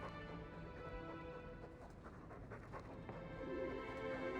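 Quiet, rhythmic panting of a dog in the video game Dragon Age 2, soft and steady with faint whimpers, heard alone at low level.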